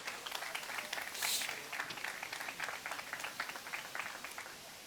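An audience claps at a design and architecture colloquium, greeting an industrial designer with dense, steady applause that swells briefly near the start and then carries on evenly for about five seconds.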